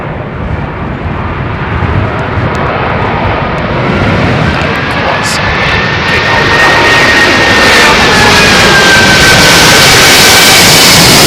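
Loud, steady roar of heavy jet airliner engines during a crosswind landing on runway 27L at London Heathrow, a broad rushing wash with a faint rising whine held close throughout.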